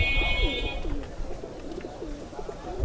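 Pigeons coo repeatedly at a busy pigeon market in Khalishpur, Khulna, soft rolling calls recurring through the clip, with a brief beeping tone at the start and background bustle.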